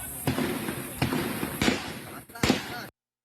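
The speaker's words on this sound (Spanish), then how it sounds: "Se escucharon fuertes disparos y se vio salir humo del edificio." Several sharp, loud gunshots ring out at irregular intervals, each a sudden broadband crack, with a voice faintly present underneath, from a building during violence in Ecuador.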